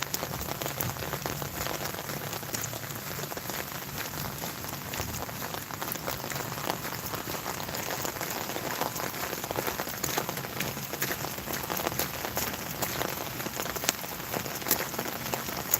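Steady rain falls during an outdoor walk, a dense, even hiss of drops on surfaces that continues evenly throughout with no talking.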